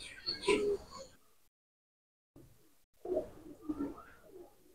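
Golden pigeons cooing up close, a few soft throaty coos in two bursts separated by a short silent gap.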